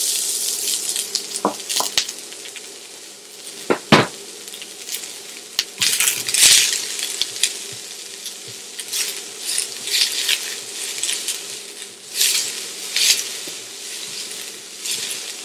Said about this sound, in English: I'm gonna go ahead and drop about a 1/2 tablespoon of olive oil. Go ahead and drop the onion in.